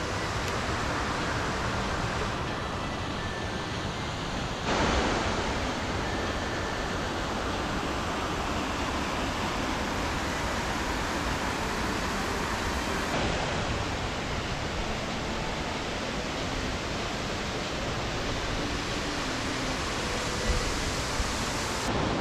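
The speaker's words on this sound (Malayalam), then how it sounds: "പിന്നെ നല്ല മുകളിൽ നിന്നാണ് വെള്ളം വീഴുന്നത് കേട്ടാ" Mallalli Falls in Coorg, water plunging from a great height amid forest, gives a steady, loud broadband roar that stays constant throughout with no voices.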